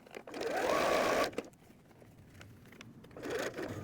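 Sewing machine stitching a curved gusset on a messenger bag, one close steady burst of fast whirring needle action for about a second, then quiet handling and a brief softer run.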